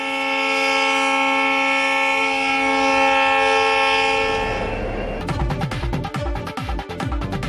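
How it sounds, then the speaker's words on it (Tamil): The Rameswaram-Tambaram express train sounds a long, loud multi-tone horn, then heavy rhythmic wheel clatter builds as it pulls away from the station. "இதனையடுத்து ராமேஸ்வரம் தாம்பரம் விரைவு ரயில் 1 மணி நேரம் காலதாமதமாக புறப்பட்டுச் சென்றது"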